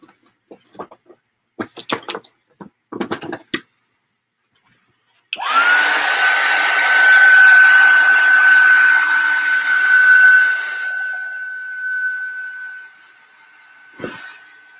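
After a few brief clatters and handling noises, a hair dryer switches on abruptly and blows loudly and steadily for about eight seconds over a gelli plate monoprint, then winds down and stops, followed by a faint knock.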